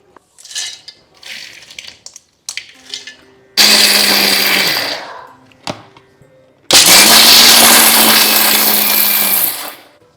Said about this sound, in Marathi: आधी शेंगदाणे मिक्सरमधनं थोडेसे वाटून घ्यायचे